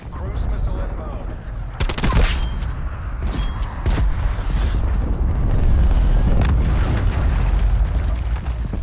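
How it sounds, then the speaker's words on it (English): A cruise missile strike in a video game lands as a heavy, booming blast early on, followed by a dense, continuous rumble with scattered gunfire crackling throughout, while a voice talks over the battle. "Cruise missile inbound."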